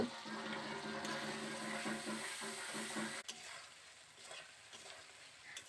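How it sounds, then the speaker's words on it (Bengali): Spice paste with a splash of water is sautéed and stirred in a pan for a vegetarian pointed-gourd curry, a soft bubbling sizzle with scraping strokes that thins out after a sharp knock midway, quiet and without speech. "এবার ভালো করে মশলাটা আমি কষিয়ে নেব"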